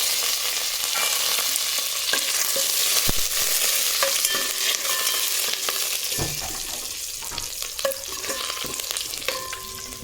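Garlic, dried chillies, curry leaves and cumin crackle and sizzle in hot oil for sambar tempering, a constant dense frying hiss with scattered pops and spoon scrapes throughout.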